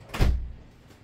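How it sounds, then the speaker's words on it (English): A door swinging shut indoors in one short, close thump with a brief rattle that fades quickly, heard alone in a quiet room. "I'm going to close the door."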